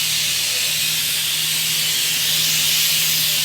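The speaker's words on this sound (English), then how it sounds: "the steam has come up, so be very careful when you're using the pressure cooker" A pressure cooker of curry with paprika, cumin and vinegar releases a steady, loud hiss of steam that holds without pause.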